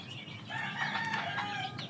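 Chickens being fed call out in short rising clucks and a crowing-like cry, fairly faint and close over low background noise, with no voices.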